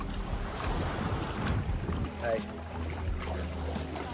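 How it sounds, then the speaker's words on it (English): A speedboat runs on open water near Nagsasa Cove with a steady low engine drone under wind buffeting on the microphone; a person briefly speaks a greeting. "Speedboat!"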